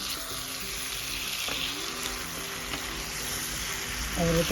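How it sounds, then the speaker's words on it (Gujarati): Spinach stirred through hot ghee in a pan of Gujarati surti undhiyu gives a steady, moderate sizzle with soft stirring scrapes, and a brief voice speaks near the end. "પાલક મૂકી ઘી મૂક્યું, પાલક મૂકી આપણે એને ફરીથી ફેરવવાનું છે."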